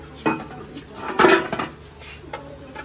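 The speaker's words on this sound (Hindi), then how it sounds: "अभी पतीला ऊपर रखते हैं" A metal cooking pot is set onto an outdoor wood fire in a village kitchen, giving a few close metallic clanks and scrapes, with one louder clatter in the middle.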